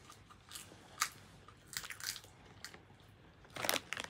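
Someone bites and chews sour candy close to the mic, producing sporadic crisp crunches in short irregular bursts with quiet gaps between them and no talking.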